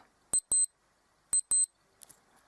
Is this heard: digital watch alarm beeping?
yes